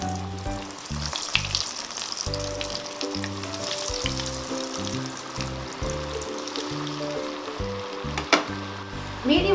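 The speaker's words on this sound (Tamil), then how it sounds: "நம்ம செஞ்சு வச்சதை இப்போ எண்ணெயில் போட்டுடலாம்." Vegetable cutlets fry in hot oil in a pan over medium flame, producing a loud, continuous sizzle and crackle, with occasional louder pops and a low hum running beneath.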